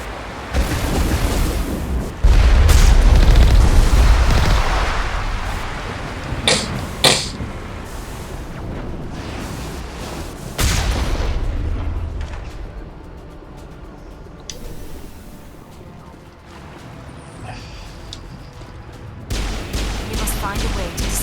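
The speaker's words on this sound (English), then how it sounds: "We must find a way to disable their artillery." Artillery fire and explosions in Mass Effect Legendary Edition, heavy booming blasts and rumbling impacts layered with crackling debris and sharp cracks, loud and close, swelling and easing over a long stretch of battle noise.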